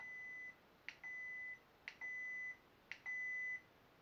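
A ProffieOS lightsaber volume menu sounds three sustained electronic beeps, each about half a second long and preceded by a short click, evenly spaced and clear against a faint background hum.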